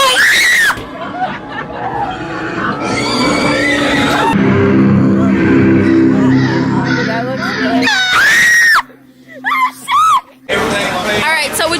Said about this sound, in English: I legit screamed the entire throughway